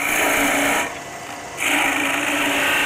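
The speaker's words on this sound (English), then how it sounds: "So I'll go with this spindle gouge." A spindle gouge cuts maple spinning on a lathe, making a loud, continuous scraping hiss. It drops off briefly as the tool lifts away, then returns at full strength. No one speaks.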